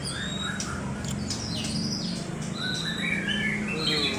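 Oriental magpie-robins (murai) at a bird kiosk give a steady stream of chirps, whistles and squawks over a constant low hum of background noise, with several birds calling at once nearby.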